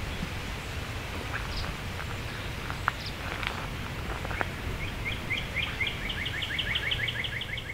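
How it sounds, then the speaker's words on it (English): A northern cardinal sings at a distance outdoors in summer, a series of clear repeated whistled notes rising over steady background hiss, with a few faint other bird calls earlier. "there's a northern cardinal singing over there"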